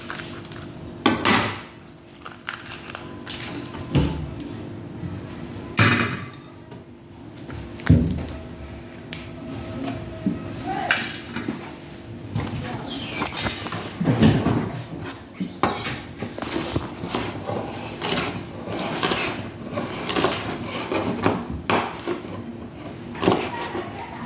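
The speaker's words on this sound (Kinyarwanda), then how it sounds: "ngiye no gukata na puwavuro." A knife chops leeks on a cutting board in a home kitchen, giving irregular sharp taps and clacks close by, with faint speech in the background.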